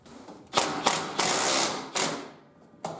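A ratchet wrench tightens the last brake booster bolt from inside a Jeep Wrangler YJ, giving several short, sharp clicking bursts with brief pauses between them, close and fairly loud.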